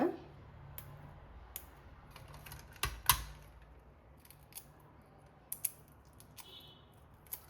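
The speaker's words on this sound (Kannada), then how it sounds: "ಮೊಟ್ಟೆ ಸಿಪ್ಪೆ ಸುಲಿಯೋಣ" Boiled quail eggs are peeled by hand, with faint, sparse crackling clicks and a few sharper snaps of shell breaking against a quiet background.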